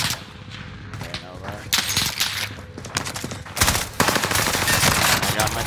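Dense video game gunfire, loud rapid bursts and overlapping shots throughout, with game effects layered in and no clear break.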